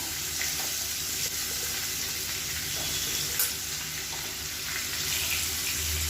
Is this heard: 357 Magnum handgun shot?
no